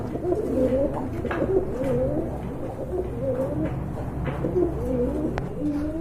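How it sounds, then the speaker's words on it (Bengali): Pigeons being sold at a market coo in soft, repeated low phrases, several birds overlapping steadily at close range without talk. "আরেক জোড়া কোয়ালিটি সম্পূর্ণ কবুতর রয়েছে এখানে"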